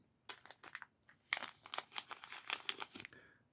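Heat-sealed plastic packaging holding rifle accessories is cut and pulled open, giving a quiet run of sharp crinkles and crackles close by, in irregular quick bursts.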